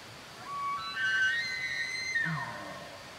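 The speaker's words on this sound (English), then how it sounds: "And you can hear that one bugling in the background." A bull elk bugles during the rut in a single rising, whistling call that slides high and then falls to a grunt, heard at a distance over faint background noise with no talking.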